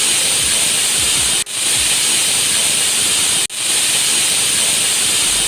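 A pressure cooker boiling over lets out a loud, continuous hiss of steam, broken by two brief sudden dropouts.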